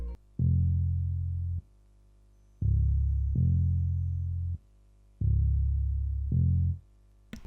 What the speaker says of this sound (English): It's just a simple one-shot bass.